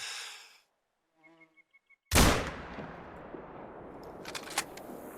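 A rifle shot fired at a deer in the hunting game theHunter: Call of the Wild, one sharp loud crack after a few soft beeps, followed by a ringing decay and faint insect-like buzzing.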